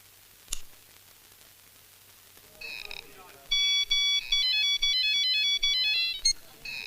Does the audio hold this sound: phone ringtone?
yes